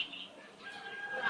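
A pet bird, apparently a large talkative species, gives a continuous squawking call close by, rising in intensity toward the end, with no talk over it.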